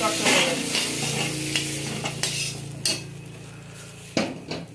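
Pieces of pumpkin, potato and cauliflower sizzle in a pan while a metal spatula stirs and knocks against the sides in sharp, irregular clinks over a steady frying hiss, without talking.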